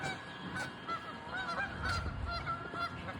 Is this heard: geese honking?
yes